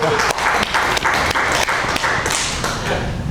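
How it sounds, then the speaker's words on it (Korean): A church congregation at a Sunday worship service claps together in a short, lively burst, with individual hand claps and light thumps standing out near the microphone, steady and bright for about three seconds. "박수 한번 해주세요."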